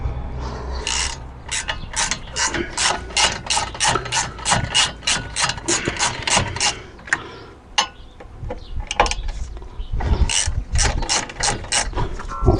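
A ratchet wrench clicks rapidly and steadily while loosening the brake caliper bolts on a VW Touran, close up in a workshop, with a few brief pauses and no talking.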